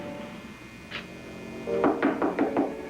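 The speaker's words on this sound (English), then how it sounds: "didn't answer my knock" A door is knocked on in a quick burst of four or five firm raps after one earlier single tap, set against a steady background hum with no talking.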